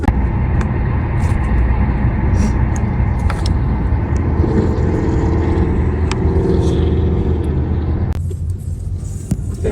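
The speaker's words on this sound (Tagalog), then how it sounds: "Kaya pala traffic." Road traffic outside the Wonderhills festival in Jubail: a continuous low rumble of car engines with occasional clicks and knocks, fairly loud and steady before easing off near the end.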